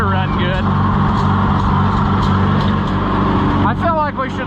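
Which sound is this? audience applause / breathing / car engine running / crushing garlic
car engine running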